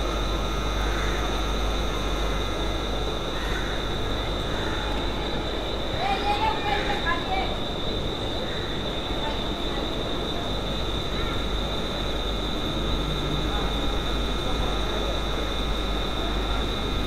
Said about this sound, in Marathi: तर ही ट्रेन सुटणार आहे बदलापूरला.